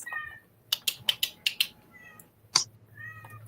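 A pet cat gives a short series of close, high meows, with a couple more a moment later, some of them clipped and chirpy, in a quiet room.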